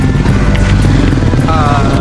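A motorcycle engine running steadily at Hell's Gate National Park, a loud, close, continuous rumble with voices faintly mixed in.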